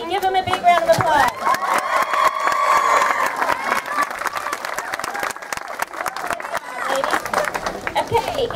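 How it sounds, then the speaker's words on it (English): Girls at a children's summer camp bead ceremony applaud and cheer loudly, sustained clapping and whoops mixed with crowd chatter and an adult voice talking over it. "Give them a big round of applause."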